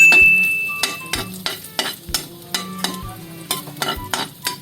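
Garlic sautéing in hot oil in a home kitchen, with a steady sizzle under repeated sharp scrapes and clinks of a utensil stirring against the pan, fairly close and loud.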